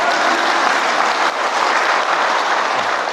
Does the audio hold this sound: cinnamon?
no